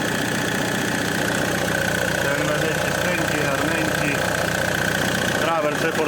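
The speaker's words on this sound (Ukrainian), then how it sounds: "зараз включаю датчик назад, міняється робота двигуна" An Opel Frontera diesel engine runs steadily at idle with a constant mechanical drone and a slight knocking rattle, close by, with a brief dip near the end as a sensor is reconnected.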